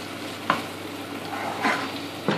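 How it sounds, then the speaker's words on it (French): Ginger and garlic fry in a pan while a utensil stirs them, giving a steady soft sizzle punctuated by a few sharp scraping strokes against the pan. "Et je mélange."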